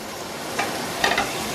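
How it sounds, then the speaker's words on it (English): Butter sizzling in a pan of potatoes, a soft continuous frying hiss with a few brief stirring clatters, close and moderately quiet. "and let it sizzle slightly"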